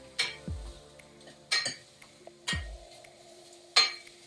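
A metal spatula clinks against a pan while vegetables are sautéed for Tirunelveli sodhi, giving four sharp knocks spaced roughly a second apart, close and clear with no talking.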